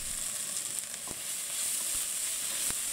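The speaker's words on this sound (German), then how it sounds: "Wenn das Öl heiß ist, dann kommen die Zwiebeln und die Knoblauchzehe gepresst mit etwas Zucker in eine hohe Pfanne." Onions, pressed garlic, a little sugar and tomato paste sizzle in hot oil in a tall pan, a continuous close frying hiss with faint crackles and a few stirring taps.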